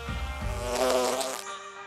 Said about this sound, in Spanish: verás a la mosca abejorro moviéndose por el aire